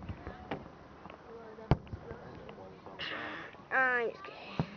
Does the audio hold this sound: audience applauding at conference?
no